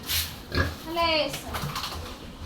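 Pigs on a farm in the Philippines grunt and oink in short bursts, including one drawn-out squeal, while someone talks over them.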